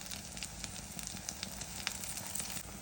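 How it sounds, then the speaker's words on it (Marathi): Chana kababs shallow frying in refined oil, a steady close crackling sizzle with scattered sharp pops running throughout, no talking. "रिफाइंड ऑइल घालता असं. शॅलो फ्राय करूया."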